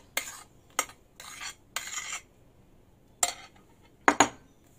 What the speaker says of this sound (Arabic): نحرك من تحت للفوق